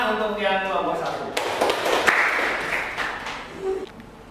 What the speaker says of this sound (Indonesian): beri tepuk tangan untuk yang kelompok 1